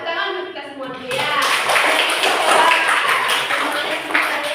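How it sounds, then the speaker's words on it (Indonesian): A class of tenth-grade pupils breaks into loud sustained applause inside a classroom after a short stretch of a teacher's speech, with the clapping dense and close. "Tepuk tangan untuk kita semua dulu ya."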